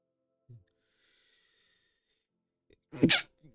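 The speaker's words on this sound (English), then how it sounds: "what is that cute sneeze?" A small, sharp sneeze in a Star Wars video game near the end, preceded by a faint sniff and a quiet high whine in an otherwise silent space.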